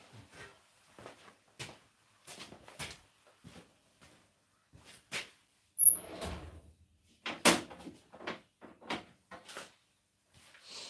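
A drawer is pulled open in a workshop shed and a tool is taken out, giving a run of scattered clunks, wooden rattles and light knocks, with one louder bump midway and no talking.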